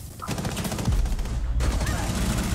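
Rapid automatic gunfire in Rainbow Six Siege, a dense burst of close, loud shots rattling over a low rumble, with a brief pause before firing resumes.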